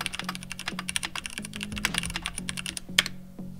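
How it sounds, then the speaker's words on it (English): Rapid typing on a mechanical keyboard with linear red switches, a close, steady patter of key clicks with deeper thocks as keys bottom out, played alone without speech. "As far as sound goes, this switch has a medium noise level when typing."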